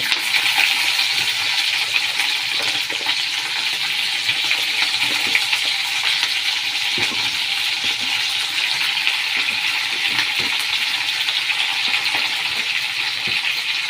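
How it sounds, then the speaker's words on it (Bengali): Meat, onion and garlic fry in a small amount of oil, giving a steady, close hiss of sizzling with faint crackles that runs unbroken throughout. "আর এটা এদিকে ভাজা হচ্ছে।"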